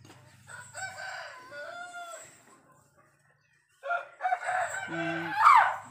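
A rooster crows clearly and fairly close, with a long drawn-out call, then a pause before more crowing and clucking starts up.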